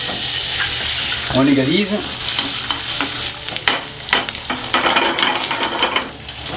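Egg frying in butter in a pan heated to 150 °C, with a bright steady sizzle and scraping stirs close up, while someone speaks French briefly over it.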